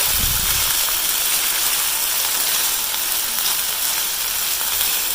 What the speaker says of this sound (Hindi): ये हमने चावल लिए उबाल लिए हैं, ये डाल देंगे इसके अंदर। इसको अच्छी तरह मिक्स कर लेंगे।